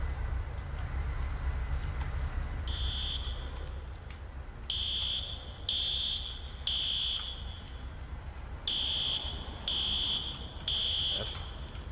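A building fire alarm sounds in repeated loud electronic beeping bursts over steady rumbling background noise, likely from fire apparatus at a laundromat fire.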